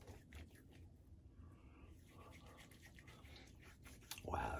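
Razorock Eco safety razor shaving, soft close-up scratchy strokes like fine sandpaper, quiet and repeated, with a louder rustle at the end.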